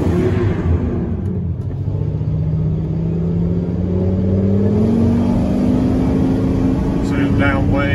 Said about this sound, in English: So this is cranked up, idling.